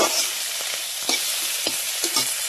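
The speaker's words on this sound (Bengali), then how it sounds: "এর সাথে পেঁয়াজ আর লঙ্কার সাথে ভালো করে ভেজে নেব।" Onion and green chili frying in hot oil for a Malabar spinach dish, a steady close sizzle broken by a few soft scrapes as the pan is stirred, with no talking.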